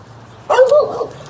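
A dog barks once with a short yelping, whimpering bark, close and fairly loud, breaking a quiet indoor room.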